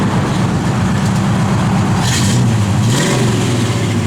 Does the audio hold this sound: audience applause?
no